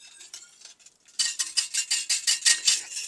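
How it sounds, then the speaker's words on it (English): A spoon scrapes and clinks in a pot of simmering Mexican spiced holiday beverage, with quiet strokes at first and then a steady run of loud, rhythmic metallic stirring close by. "we're mixing it through, making sure nothing sticks at the bottom"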